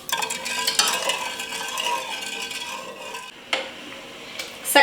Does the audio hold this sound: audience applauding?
no